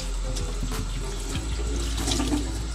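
A tap pours water steadily into a hydro-dipping tub used to customise a PS4, a continuous close rush of water with small splashes throughout and no talk.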